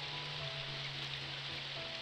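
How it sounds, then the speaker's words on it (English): Heavy rain pours outside as a steady, even hiss of water with no breaks, faint and distant, with a low tonal hum running beneath it. "The rain is pouring outside."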